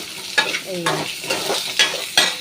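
Potato pieces tipped into a pan of frying onions, with a steady sizzle and a few stirring scrapes and clunks close by, no voices.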